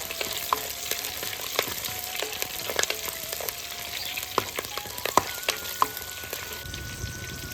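Green chillies frying in a pan, a close crackling sizzle with frequent sharp pops and spatters plus light stirring scrapes, heard alone without talk.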